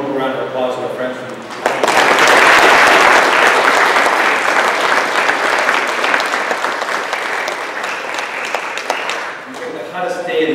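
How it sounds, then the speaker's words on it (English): A round of applause breaks out in a hot City Hall council chamber after a vote, sustained loud clapping for several seconds that tapers as talk resumes at the start and end. "I'd just like to give one more round of applause to our friends"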